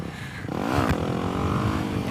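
A Yamaha WR250X motorcycle revs up in second gear during a clutch-up on a test ride, the engine note climbing and holding loud and steady for about two seconds with no talking.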